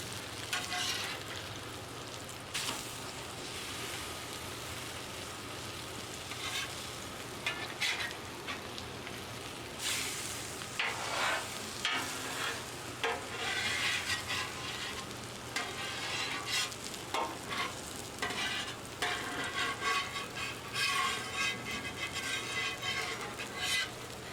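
Chicken fried steak frying in hot grease on a Blackstone griddle, a continuous crackling sizzle with popping spatters throughout, close and steady, with no voices.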